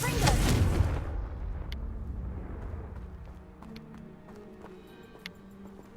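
A Confringo blasting spell goes off in a video game, a loud broadband burst in the first second that decays into a rumbling tail, followed by faint scattered clicks and a low hum.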